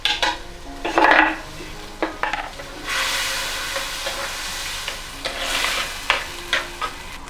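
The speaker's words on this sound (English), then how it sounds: "To the same oil, saute 2 medium onions sliced." Sliced onions sautéed in the same hot oil used to fry prawns for chemeen choru, with a steady sizzle, spatula scrapes and stirring clatter against the pan throughout, with no talk.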